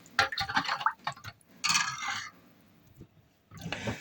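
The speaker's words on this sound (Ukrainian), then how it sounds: "І тепер заливаємо нашу пташку розсолом." Brine being poured over quail meat for hot smoking, heard as close splashing and trickling liquid in irregular bursts, with a longer gushing pour in the middle and quieter drips between.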